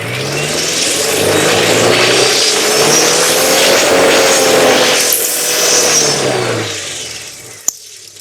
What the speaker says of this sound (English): if I raise the rev